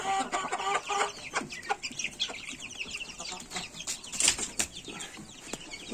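Chicks and grown chickens cluck and peep continuously close by, with scattered sharp calls and wing flutters in a busy coop, no talking.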